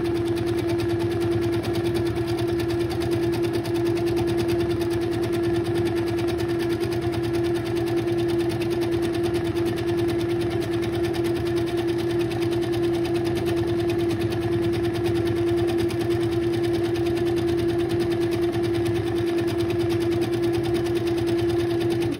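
A sewing machine free motion quilting a practice panel, running continuously and loudly close by with a steady high motor hum and rapid needle rhythm, no pauses.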